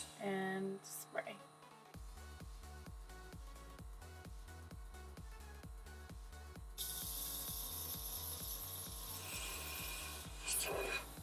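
A cordless makeup airbrush being cleaned: a rhythmic mechanical pulsing runs throughout, joined partway by a steady hissing spray that continues to the end, with brief talk at the start.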